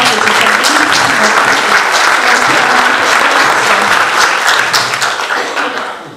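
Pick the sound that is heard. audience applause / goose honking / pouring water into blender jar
audience applause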